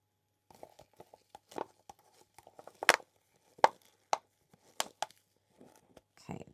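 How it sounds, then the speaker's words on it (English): A tool scrapes leftover white resin out of a cup for a resin flower jar craft, with a series of short, dry scratches and taps in an irregular rhythm, close and faint, with a brief murmur of talk. "let's scrape out this white"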